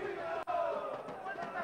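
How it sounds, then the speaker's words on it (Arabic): Boxing arena crowd cheering during a fight, a steady roar of voices filling the hall, with a sharp thud partway through. "شوفوا تشجيع الجمهور حاضر"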